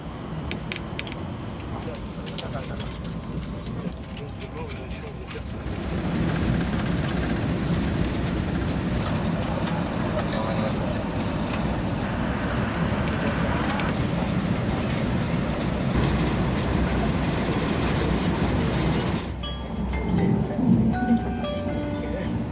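Steady rumble of a TGV Lyria high-speed train running on rails, heard from inside, growing louder after a few seconds and holding a constant drone.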